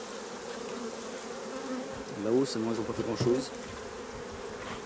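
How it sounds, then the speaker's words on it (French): Honey bees buzz around an open beehive during work on the hive's honey super, a steady insect drone under a French-speaking voice, with a few louder close passes. "il y a des abeilles qui se mettent sur le toit"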